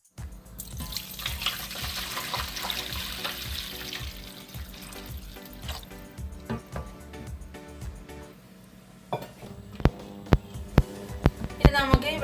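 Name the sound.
pouring water into a hot pot for biryani rice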